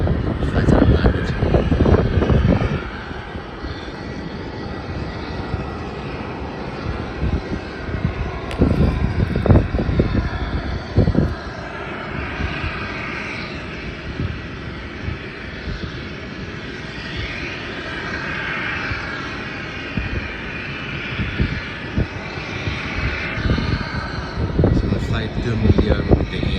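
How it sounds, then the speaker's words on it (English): A Jetstar Airbus A320 just landed from Hobart rumbles at a distance with a broad engine roar, punctuated by intermittent louder bursts and background voices talking. "a flight from Hobart to Melbourne just landed, and that's a Jetstar Airbus A320"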